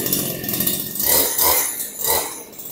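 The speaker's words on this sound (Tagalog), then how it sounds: "Meron na po kayong grass cutter na di gasolina, 2-stroke po yan." A CG411 two-stroke gasoline grass cutter runs close by with a loud, raspy engine drone that rises and falls in pitch as it is revved, no talk over it.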